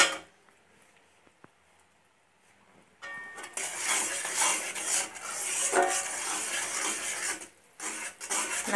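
Sugar caramelizing in a hot karahi for kotkoti honeycomb candy is stirred with a spoon. The clip is nearly silent for three seconds, then steady close scraping and rubbing against the pan follows, with a couple of brief pauses.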